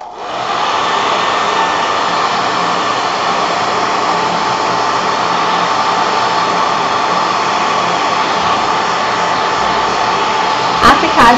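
A hair dryer blows loud and steady for about eleven seconds, drying paint on a craquelé bunny candy holder craft piece, then cuts off with a brief clatter at the end.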